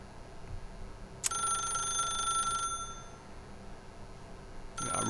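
A telephone ringing in The Stanley Parable video game, a bright electronic ring lasting over a second, then a pause and the start of another ring, with no voices.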